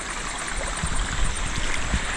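Strong flood water rushes steadily, a dense, continuous roar close by with occasional splashing thumps.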